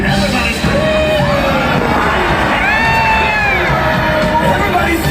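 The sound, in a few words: crowd screaming at Disneyland Halloween fireworks show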